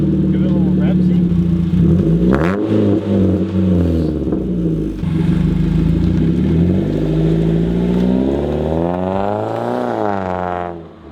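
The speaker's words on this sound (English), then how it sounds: "Give it a little rev, see?" A widebody Mazdaspeed 3 engine idles close by, then revs in a couple of rising and falling sweeps, the last one climbing sharply before cutting off, with a person talking over the engine.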